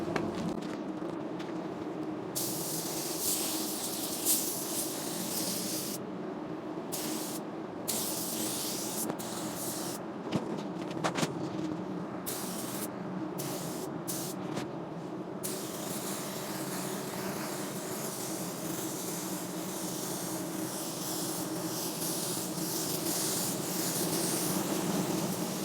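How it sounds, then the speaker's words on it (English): Spray gun laying a single wet coat of P30 sealer onto a panel before blending, a steady continuous hiss with short breaks between passes, close and loud, with no talking. "This is P30 sealer,"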